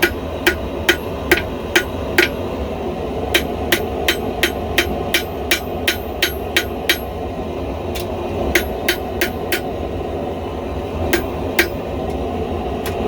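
Steel kitchen knife tang being tapered on an anvil with a forging hammer: sharp, ringing blows struck in quick bursts of several hits with short pauses, close and loud over a steady low hum.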